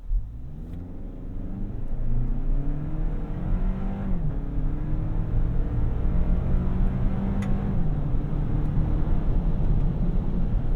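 A 2024 Toyota Land Cruiser with a conventional automatic transmission accelerates at full throttle, its steady loud engine drone climbing in pitch through several upshifts, heard from inside the cabin without talk.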